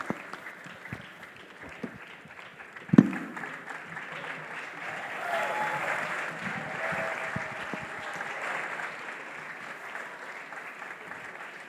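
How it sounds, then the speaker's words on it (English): Sustained applause from an audience, a sharp clap near the start, then steady clapping that swells slightly and continues. "Please keep the applause coming."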